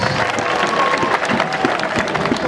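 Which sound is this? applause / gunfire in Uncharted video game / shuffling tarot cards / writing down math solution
applause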